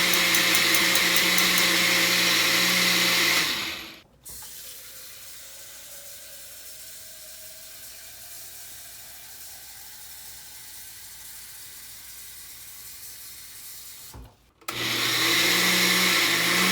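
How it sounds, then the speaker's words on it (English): A blender shreds dog-wash ingredients with a loud, high whirring roar in two bursts at the start and end, with a quieter stretch of low hiss and hum between them. "put all of this into a big old thing of a blender here. And we're going to shred this up."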